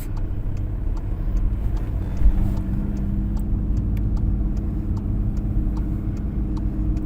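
A car pulls away in first gear on a sloped road, its engine a low, steady hum close by with a faint rhythmic ticking over it and no one talking.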